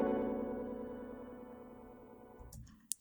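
A fading piano tone with a grain delay octave-up ping-pong layer thins out over a few seconds, ending with a few faint clicks. It is quiet and plays without any voices.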